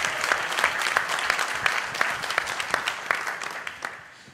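A conference audience claps for Congressman John Conyers at a session on environment, economic development and justice: dense, steady applause from many hands that fades out toward the end.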